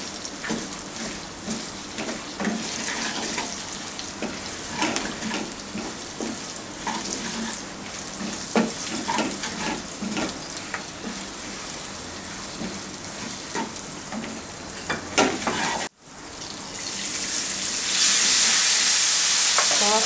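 Ground fennel hits frying masala in a pan for Hyderabadi green chilli salan, giving a steady, close sizzle with stirring scrapes throughout, then a louder burst of hissing near the end.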